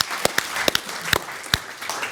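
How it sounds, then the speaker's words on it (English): An audience claps in a short burst of scattered applause, a few sharp hand claps standing out over a soft, steady patter from a modest crowd. "round of applause for Mark."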